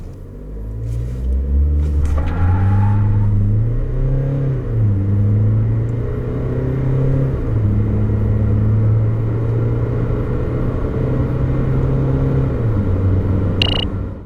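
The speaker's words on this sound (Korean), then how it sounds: "이 칸의 가속 성능을 한번 알아볼까요?" A 2019 SsangYong Rexton Sports Khan pickup accelerates hard from inside the cabin, its engine drone climbing steadily through several gear shifts, each change marked by a dip and rise in pitch, loud and continuous throughout.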